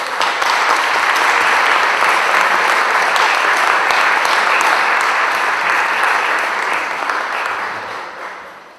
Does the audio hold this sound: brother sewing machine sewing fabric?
no